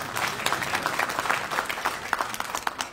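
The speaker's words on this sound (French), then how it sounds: "On peut l'acclamer." Applause for a speaker at a diaspora gathering with an ambassador present: steady, dense clapping from an audience filling the whole moment, moderately loud and continuous.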